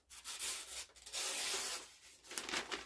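A steel chisel rubbed back and forth on a coarse sharpening stone, giving steady gritty scraping strokes up close, several rasping passes in a row with brief pauses between them.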